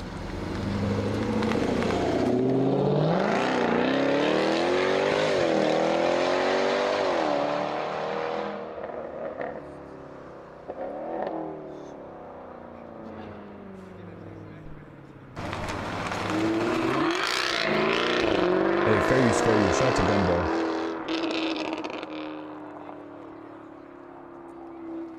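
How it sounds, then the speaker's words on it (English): A Jaguar F-Type R's V8 engine with a louder-than-stock Larini exhaust revs hard with rising and falling pitch, drops away briefly, then roars again in a second strong burst before settling into a steady hum. "We have a V8 F-Type R, and you'll hear the outside sounds too."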